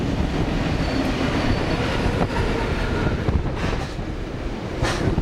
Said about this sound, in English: There's a train going through.